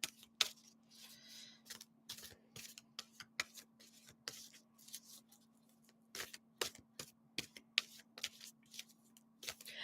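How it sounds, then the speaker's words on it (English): Angel tarot cards being shuffled close up, a quiet run of quick papery riffles and taps in uneven bursts over a low steady hum, with no voices. "So bringing out the angel tarot cards."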